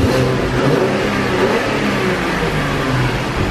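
A Ferrari's engine revs nearby, a loud, steady roar with a rising and falling mid-range growl lasting throughout, with no talking.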